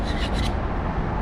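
Old mortar being scraped off a Ludowici Spanish clay roof tile on a hip joint, a short close rasping scrape that fades after about half a second into a steady low rumble.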